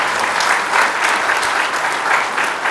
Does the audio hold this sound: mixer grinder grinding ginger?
no